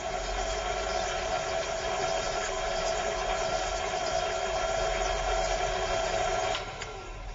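A food processor whirs biscuit crumbs with butter, giving a steady, even motor drone for about six seconds before it winds down.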